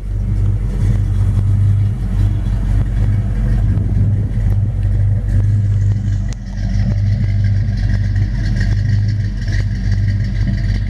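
A 1954 Ford F-100 resto-mod pickup runs nearby outdoors on a warm day, its engine holding a deep steady idle with a strong low rumble and only a slight dip partway through.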